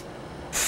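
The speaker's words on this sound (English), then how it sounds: "I've got some spray stuff here. It'll clean it up a little bit" A short hiss of cleaning spray aimed at a speedometer speed sensor, a single bright burst lasting under a second after a quiet moment.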